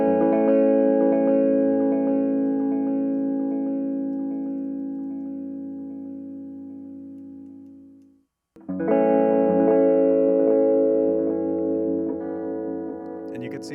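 An electric guitar runs through a fully wet delay effect set to a long time and high feedback on a PolyEffects Beebo pedal, a sustained chord smearing into repeating echoes that fade, then a fresh strum blooms loud again.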